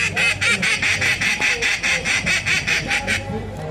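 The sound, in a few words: mallard duck quacking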